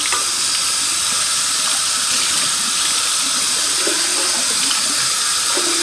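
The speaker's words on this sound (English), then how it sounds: "I'm just going to rinse it off." Tap water runs steadily into a sink as an item is rinsed under it, a continuous hiss and splash with small shifts where the object moves through the stream, close and alone without talk.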